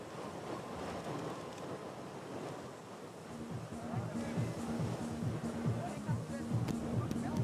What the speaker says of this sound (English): Bit windy down there on the beach